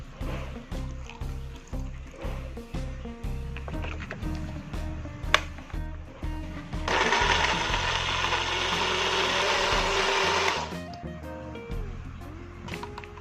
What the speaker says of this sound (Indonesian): Langsung saja kita blender.